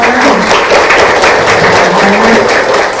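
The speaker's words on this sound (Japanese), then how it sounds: "では皆さん感謝の思いを込めて拍手をお願いいたします" Audience applause at the close of a lecture on nurse practitioners in Australia's islands: steady, dense clapping from a full hall, loud and even throughout, with no voices over it.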